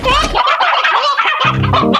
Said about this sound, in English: That must be the chickens.